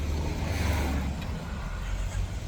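Traffic rumbles outside, with passing cars making a steady low roar that holds through the whole stretch and swells slightly at times. No one talks over it.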